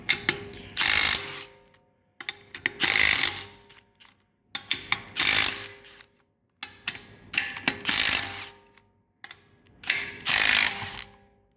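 A Milwaukee M18 Fuel 3/8-inch compact impact wrench tightens lug nuts on a vehicle wheel, firing about five loud, close hammering bursts of a second or so each, separated by short pauses.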